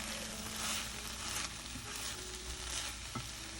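Garlic and cumin tempering in hot oil give off a steady, dense sizzle and crackle throughout, with occasional stirring scrapes, close and moderately loud with no talking.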